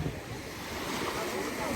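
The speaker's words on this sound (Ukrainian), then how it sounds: "Послухайте цей шум моря" Sea surf roars steadily at a hotel beach, a dense continuous wash of breaking waves mixed with wind buffeting the microphone.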